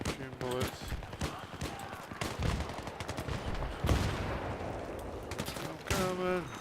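Video game shooter gunfire: rapid bursts of shots and automatic fire crackling throughout, with a player talking over the action.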